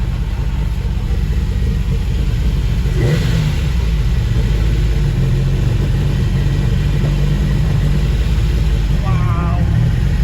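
An MG Metro 6R4 Group B rally car engine roars continuously at high load, loud and close, with a brief shift in tone partway through and faint voices underneath.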